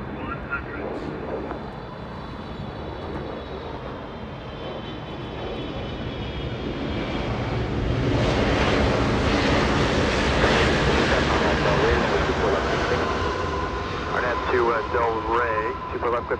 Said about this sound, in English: Japan Airlines 16 flying in from Tokyo, Haneda. 9 hours of flight time, arriving in only a few seconds.